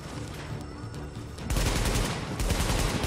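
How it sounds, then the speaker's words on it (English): In the shooter game The Division, a Scar H rifle fires. Faint shots are followed by a loud, sustained burst of rapid automatic gunfire that starts about halfway through and continues to the end. "I'm shooting at him"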